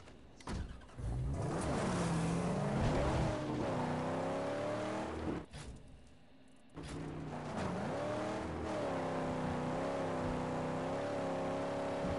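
A car engine drives steadily in the Mad Max video game, its drone rising and falling in pitch as the vehicle speeds up and eases off, with a brief dip near the middle before it picks up again.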